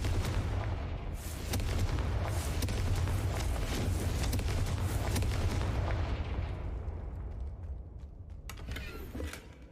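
Confringo fire spell explosion in the video game Hogwarts Legacy, a loud rumbling blast with crackling debris that sustains for several seconds, then fades into lighter clatter and pops.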